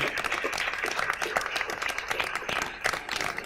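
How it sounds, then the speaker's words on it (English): A board of education meeting audience gives a round of applause for fall postseason athletes, with brisk, moderately loud clapping from a modest crowd lasting a few seconds and some voices mixed in. "I've got a round of applause for all of our fall postseason athletics."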